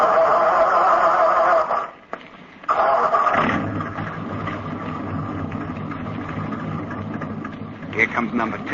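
Military convoy truck engine cranked by a sergeant: a busy hum cuts out, then a low engine rumble starts and settles into a steady idle, with people talking over it.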